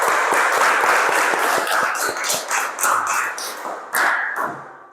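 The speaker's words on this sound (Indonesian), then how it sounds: "tepuk tangan" A classroom group breaks into a burst of hand clapping, dense and overlapping at first, then thinning and fading out over about five seconds.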